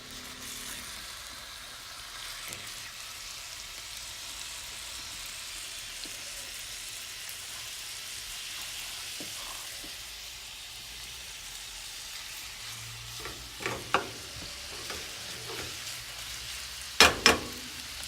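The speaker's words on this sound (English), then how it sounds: "See, it's sizzling now." Ground beef mixture sizzling in hot oil in a pan for Asian empanadas, a soft steady crackle throughout with a few louder clinks and scrapes of stirring near the end.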